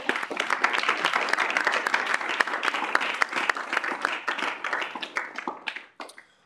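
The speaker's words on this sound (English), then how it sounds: "let's have a round of applause for Michael." A crowd applauding steadily, dense overlapping claps that fade out near the end.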